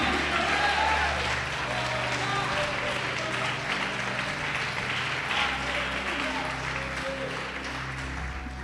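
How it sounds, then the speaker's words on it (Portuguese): Church congregation applauding during a Portuguese-language worship service, a sustained wash of clapping from many people that runs evenly throughout, mixed with voices and a tonal hum underneath. "Pode aplaudir, glorificar."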